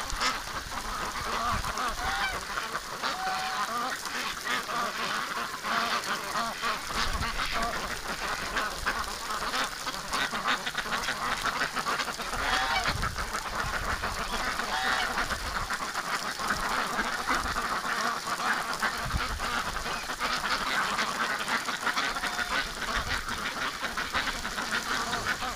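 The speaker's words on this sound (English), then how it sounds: "Doug's herding the ducks." A flock of wintering ducks and geese quacks and honks continuously on a snowy day, the calls dense and overlapping at close range with no talking.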